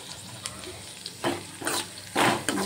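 Chopped onion frying in a pan for zunka, with short bursts of sizzle and stirring scrapes rising and fading several times, moderately close and clear with no talk.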